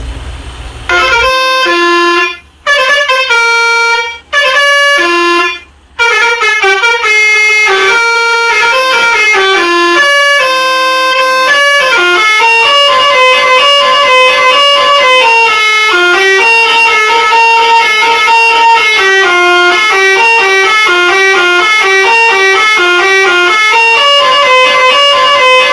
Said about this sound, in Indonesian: dari suara klaksonnya seperti ini ya